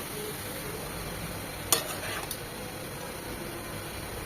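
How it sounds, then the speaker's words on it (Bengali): Snake gourd fries in a pan in its own released water, a steady, even sizzle throughout with a couple of faint clicks partway through. "চিচিঙ্গা থেকে বেশ খানিকটা পানি ছেড়েছে, এই পানিতেই চিচিঙ্গাটা সেদ্ধ হবে, ভাজা ভাজা হবে"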